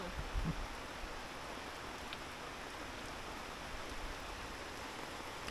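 Rain falls steadily in a forest campsite at Taihon Basecamp, Bukit Tinggi, a constant soft hiss with a brief low thump at the start and no talking.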